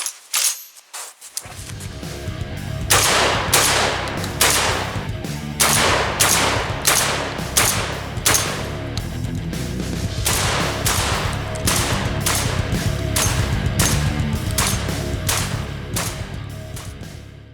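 Rock Island Armory VR80 semi-automatic 12 gauge shotgun firing outdoors, a loud, close string of rapid blasts in quick succession sustained for over a dozen seconds.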